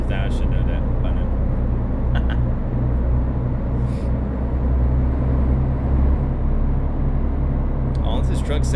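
An International LT truck engine in the American Truck Simulator game drones low and steady throughout, with a few faint clicks on top.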